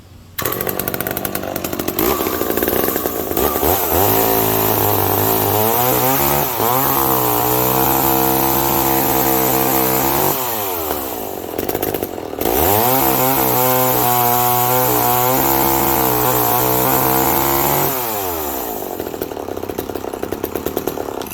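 A McCulloch Power Mac 6 chainsaw with a dull chain cuts into wood, its engine loud and close, droning and revving steadily with one brief dip midway before bearing down again.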